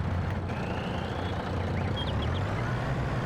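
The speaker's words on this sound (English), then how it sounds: "Start the engine." A truck engine in Farming Simulator 22 gives a steady, low rumble that runs without a break, with a faint high whine above it.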